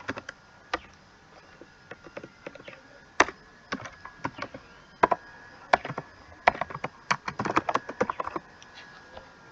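Keys on a computer keyboard clatter in uneven bursts, with scattered sharp taps and quick runs of strokes, close and fairly quiet, with no talking.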